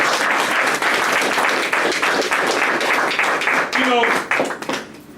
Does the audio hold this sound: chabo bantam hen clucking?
no